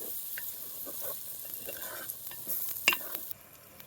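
A spoon stirs chili powder into masala frying in oil for a dried fish curry, with quiet intermittent scrapes and soft sizzling, a few sharper clinks near the end.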